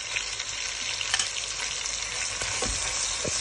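Ground onion paste fries in hot oil with a continuous, close sizzle, broken by occasional spoon scrapes and soft knocks against the pan.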